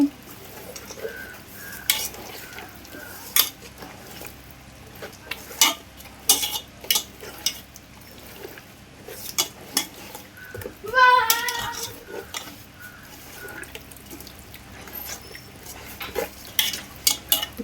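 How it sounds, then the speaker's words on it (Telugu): Fish pieces being mixed by hand with ginger garlic paste in a bowl, giving soft wet squelches and scattered clinks of the bowl, close and moderately loud with a hum underneath. "చక్కగా ముక్కకి ప్రతిదీ పట్టేలాగా మనం కలుపుకోవాలి."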